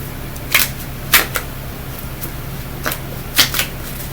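Tarot cards being shuffled in a few brisk riffling bursts, close up and fairly quiet, with pauses between them over a low steady hum.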